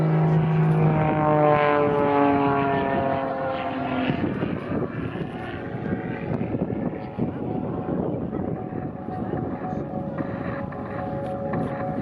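Propeller aerobatic aircraft engine at the Southport Airshow, a loud droning roar with a falling pitch sweep early on as the plane passes, then sustained engine noise with wind buffeting, no talk.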